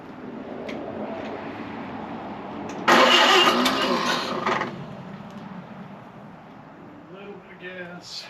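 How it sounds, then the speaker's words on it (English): A Model A Speedster engine fires up on its own carburetor, a loud burst of starting and running that swells suddenly, holds for under two seconds, then settles back under steady background noise. "we're ready to see if this thing will run on its own carburetor"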